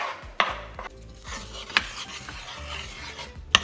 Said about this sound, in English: This is what I mean by swooshing it around, just so it melts